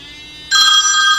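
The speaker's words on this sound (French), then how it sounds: "ça a vibré, le téléphone a sonné." A phone ringtone, triggered by the find-phone function of a Teclast H30 fitness band, starts abruptly after a quiet moment and plays loudly and steadily, close by, with a bright electronic tone.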